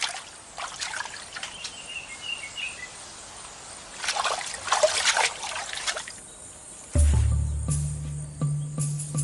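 Water trickling as chimpanzees bathe in a pool, a faint dribbling and splashing with scattered splashes, then a louder low rumble near the end.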